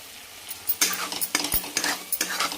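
Mutton masala fries in hot oil while a spoon stirs and scrapes the pan, giving close, bright sizzling broken by repeated metallic scrapes.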